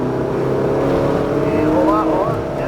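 Ferrari engine on a race track droning steadily and loud throughout, with tonal whine rising toward the end as it accelerates; a voice briefly talks over it.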